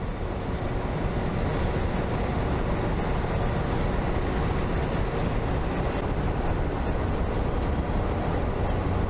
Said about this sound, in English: We got ourselves a train over here.